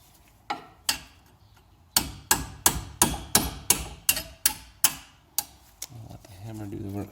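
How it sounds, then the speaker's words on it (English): Sharp metallic hammer taps on a brake caliper pin of a 2016 Mustang GT's front Brembo brakes, a dozen or so strikes in an uneven rhythm, close and loud, with a brief pause between clusters. "I'll let the hammer do the work for us there."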